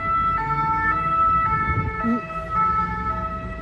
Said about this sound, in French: Il y a déjà les ambulances.